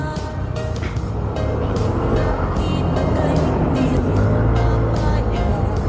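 Motorcycle throttling on a short ride from Calamba Plaza, a steady loud engine and road rumble with wind running continuously throughout, broken by faint repeated higher bursts.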